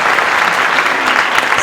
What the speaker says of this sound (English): we'll give her a round of applause as well for Mrs. Woods.